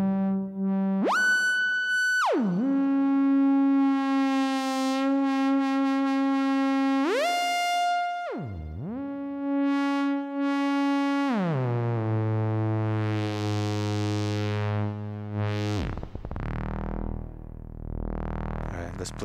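An Erica x Klein FOLD wavefolder module processing a near-sine wave, giving bright, stepped synth tones that glide and jump in pitch with rich, buzzy overtones and some echo. The tones play loud and steady for about nineteen seconds with no voice over them.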